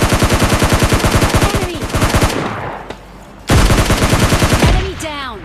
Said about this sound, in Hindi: कुछ गन साउंड्स आते हैं मुझे